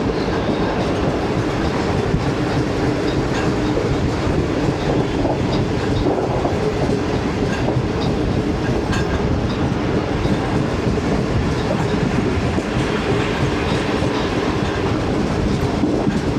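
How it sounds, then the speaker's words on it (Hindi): The Badar Express train runs on a station loop line, with steady loud rumbling and clattering rail noise that continues throughout. "बदर एक्सप्रेस को मेन स्टेशन बिल्डिंग वाली साइड की लूप लाइन पे रोका गया है।"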